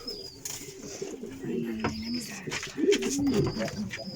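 Pigeons cooing nearby in a loft, several low soft rolling coos in short bursts over a light rustle, with a voice briefly in the background.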